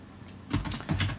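Fast typing on a computer keyboard, a short close burst of clustered key clicks starting after a brief quiet pause, with no talk.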